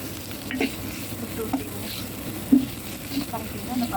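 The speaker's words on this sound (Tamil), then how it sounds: "நல்லா வறுத்துடணும்" Spices and onions fry in a pan for mutton gravy, a low steady sizzle with occasional soft stirring clinks and scrapes, close and fairly quiet.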